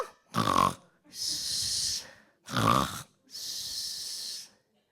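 A human voice imitates loud snoring: two rounds, each a harsh rasping inhale followed by a long hissing exhale, close and alone with no other talk.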